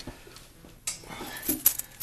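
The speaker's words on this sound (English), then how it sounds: "These are the keys to my pickup truck." Keys for a pickup truck jangle and clink in a hand, several light metallic rattles and taps that get louder toward the end, close by in a quiet room.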